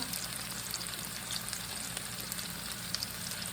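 Swedish meatballs sizzle and fry in a pot over medium heat, a soft, steady crackle with scattered pops, faint and continuous with no talking.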